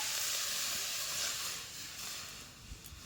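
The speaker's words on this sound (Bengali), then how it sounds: "জলটা ফুটে গেছে" A small amount of water comes to a boil in a kadai-style wok while a filling for pitha is prepared, giving a steady, soft, continuous hiss and sizzle with no voices.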